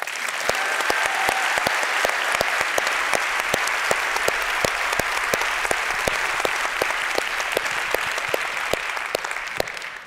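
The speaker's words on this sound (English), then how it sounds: "Please join me in giving them a round of applause." An opening-plenary crowd at the Skoll World Forum gives a sustained round of applause for scholars, dense and even throughout with some sharper individual claps standing out near the front, tapering slightly at the end.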